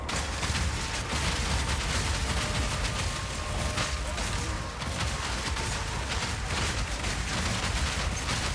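Continuous siege cascade firing in Path of Exile 2 makes a dense, unbroken barrage of crackling impacts and booms that keeps an even loudness throughout.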